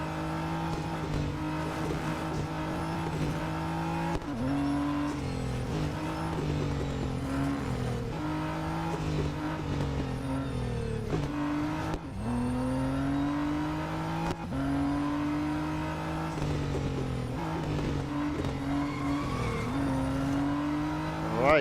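Race car engine in the Real Racing 3 video game, revving steadily with rising and falling gear pitches and occasional tyre noise, loud and continuous throughout.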